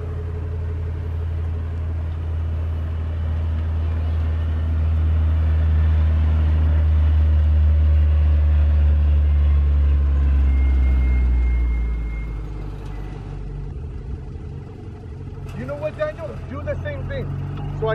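A Honda Accord CB7 driving a winding touge road with curves and a small bridge, its engine droning loud and close before fading away, with a few later clicks and knocks.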